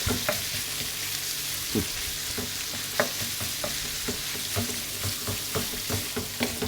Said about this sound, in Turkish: Güzelce ayıra ayıra şöyle karıştıra karıştıra bu şekilde yayıyoruz